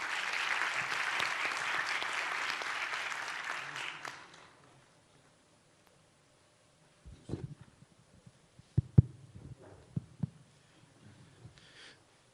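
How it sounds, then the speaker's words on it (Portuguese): Audience applause at a university conference panel, dense clapping for about four seconds that fades out, followed by near silence and a few scattered knocks and microphone handling sounds. "uma salva de palmas para todos,"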